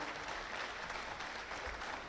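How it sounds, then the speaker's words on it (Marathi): An audience at a talk on entrepreneurship claps loudly and continuously, forming a dense, steady wash of applause. "जोरदार टाळ्या वाजवाव्यात।"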